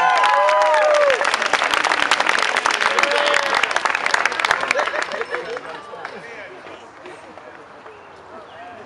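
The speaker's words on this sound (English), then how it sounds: "let me hear you give a round of applause" Wedding guests burst into a loud round of applause with cheers and whoops during a best man's toast at a reception, strongest at first and then gradually thinning out, with voices mixed into the crowd.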